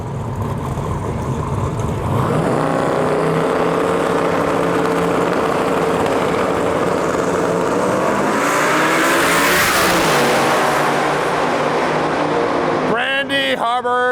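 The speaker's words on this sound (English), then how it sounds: "we got Brandy Hubbard in our lane with his 95 Grand Prix." A 1995 Grand Prix race car roars down the track at a late-night small-tire drag racing event, its engine loud and sustained throughout, pitch climbing as it accelerates, with another car's higher revving appearing near the end.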